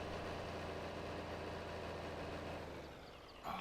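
Small tractor engine in Farming Simulator 22 chugging steadily at close range, a constant low droning hum with harmonic layers that drops and thins near the end before a brief clunk.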